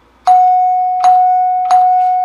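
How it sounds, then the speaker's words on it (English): A NuTone LA71 Electronic Madison door chime, set for the rear door, strikes the same single bright tone three times. Each strike is loud and close, with a ringing decay, spaced a little under a second apart. "So the rear door rings a single note,"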